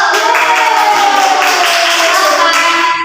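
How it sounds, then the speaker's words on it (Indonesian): A classroom of students claps together in a dense, sustained round of applause, loud and close, lasting a few seconds without a break. "itu mau tepuk tangan dulu"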